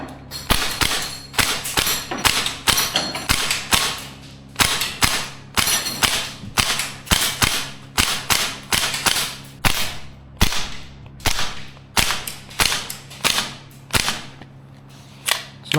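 Maruyama ISO556 gas blowback airsoft rifle firing a long string of sharp, loud cracks, mostly evenly spaced single shots with brief pauses between bursts, alone with no talk.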